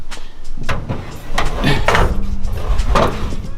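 A drawer of an auto-body frame measuring system slides open and shut with wooden rattles and bumps, close by, several clunks in quick succession.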